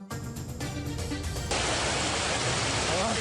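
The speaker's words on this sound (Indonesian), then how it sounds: "Jebolnya tanggul membuat air mengalir deras ke jalan dan permukiman warga." Floodwater gushes through the breached embankment of the Cabean River in Demak, Central Java, flooding roads and homes: a steady, loud broadband roar, a short stretch of other sound at the start before the continuous rush takes over.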